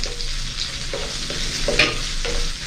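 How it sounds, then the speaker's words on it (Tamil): Onions sautéing in a pan for brinjal curry, a constant close sizzle broken by the scrape and tap of a spoon stirring against the metal. "வெங்காயம் பொன்னிறமாக வர வரும் வரைக்கும் இதை நாங்கள் வதக்கி எடுத்துக்கொள்ள முடியும்"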